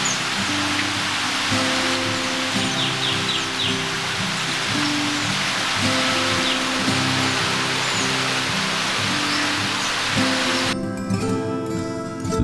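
Steady hiss of monsoon rain falling, a dense continuous wash heard up close, with a low engine-like hum underneath and faint bird chirps in the background.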